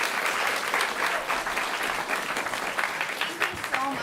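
A panel audience applauding, with dense, steady clapping throughout and a voice speaking over it, fairly loud and filling the room.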